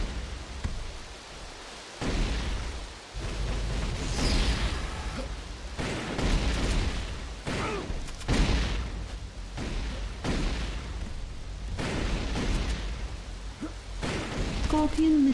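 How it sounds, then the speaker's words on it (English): Plasma rifle fire in a competitive multiplayer match on the Harbor map: repeated bursts and booming shots in uneven clusters over about fifteen seconds, loud and close, mixed with other gunfire and occasional voices. "Plasma rifle."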